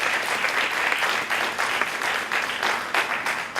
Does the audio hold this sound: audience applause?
yes